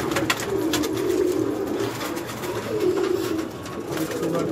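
Flock of pigeons kept for sale cooing steadily and close by, a dense, continuous murmur of overlapping coos that never lets up.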